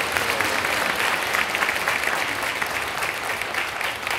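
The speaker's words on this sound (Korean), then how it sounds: "감사 박수로 부탁드리겠습니다" A church congregation claps in thanks for the worship team at a New Year's Day service, a dense, steady wash of many hands that fills the whole stretch without pause.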